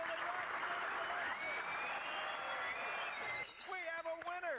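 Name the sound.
clapping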